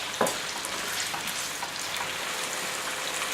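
Pork pie filling sizzles steadily as it fries in a pan, with a brisk scrape of stirring near the start and a dense, even crackle running throughout.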